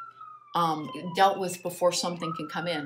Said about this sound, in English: Sorry about the sirens out there.